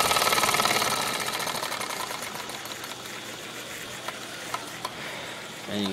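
A roughly 70-year-old stationary steam engine runs steadily, giving off a fast, even mechanical chugging with a hissing wash. It is loud and close, eases slightly in pace, and has a few sharp clicks toward the end. No one speaks.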